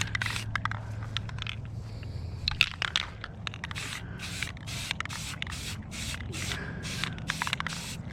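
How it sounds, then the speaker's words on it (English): Short bursts of aerosol spray paint hiss in quick succession onto foam, some brief and some longer, fairly close, with faint crackling in between. "because it's spray paint, it's going to eat away at the foam a little bit"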